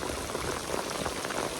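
Heavy downpour on a cotton field, a dense continuous patter of rain hitting surfaces and water, steady and close through the short stretch.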